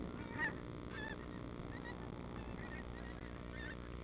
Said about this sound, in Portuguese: Os gansos estão perto do final de sua viagem para o norte